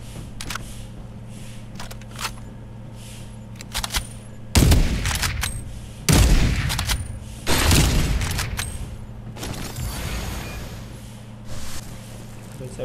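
Bursts of gunfire in the mobile shooter Farlight 84, with three loud, close volleys around the middle and lighter scattered shots and clicks before and after, over a steady low game hum.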